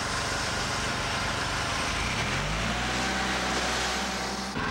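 A TimberKing B-20 bandmill's blade engine revs up to full throttle over a running hydraulic motor, a rising, strengthening roar that settles into a loud, steady drone before cutting off abruptly at the end.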